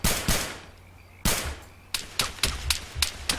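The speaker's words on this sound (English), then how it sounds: "they're shooting back" Enemies shooting back in a video game firefight: a handful of sharp, loud gunshot cracks spaced irregularly, with a quiet gap before a quicker run of reports.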